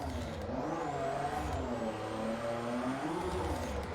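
A car engine in the drifting game Drift Reign revs steadily, its pitch sweeping up and down in a continuous droning whine, moderately quiet and without voices.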